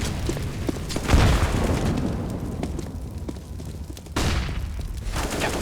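Several grenades explode in a competitive first-person shooter esports match, with a deep boom just past one second and another at about four seconds over continuous rumbling gunfire and ambient battle noise.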